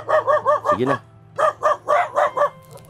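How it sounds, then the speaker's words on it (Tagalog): Several dogs bark in repeated bursts at a Filipino home where a frightened dog is being coaxed to eat, with a brief yelp among the barks and a person speaking briefly. "may mga aso kasi."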